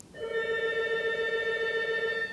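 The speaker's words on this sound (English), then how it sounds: "Ignore that, that's the phone" A home telephone rings in a single sustained electronic tone with stacked steady harmonics, loud and close, lasting about two seconds during a winter snowstorm.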